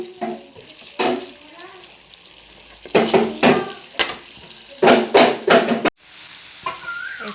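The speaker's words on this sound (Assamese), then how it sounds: "এতিয়া আলু ফ্ৰাই কৰি আছোঁ সৰু সৰু আলু" Small potatoes frying in a pan, giving a steady sizzle broken by loud, repeated bursts of scraping and stirring against the pan.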